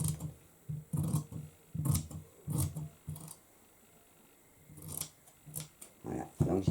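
Scissors snip out a fabric shape for a textile book page, a series of close, crisp cutting strokes in short bursts, pausing briefly in the middle before resuming, with soft speech at points.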